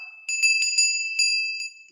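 A small bell rung during a satsanga gives several quick bright strikes with a clear sustained ring, alone and close, fading after a final lighter tap.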